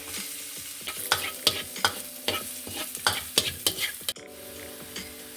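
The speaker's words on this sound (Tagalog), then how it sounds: "Then we're gonna saute our ginger, minced garlic," Ginger, minced garlic and shallots sauteing in olive oil for beef and broccoli, a soft sizzle punctuated by about a dozen sharp utensil scrapes against the pan, ending in a quieter hiss.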